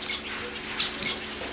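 Small bird chirping in a butterfly garden, a few brief high tweets spaced apart over faint background noise.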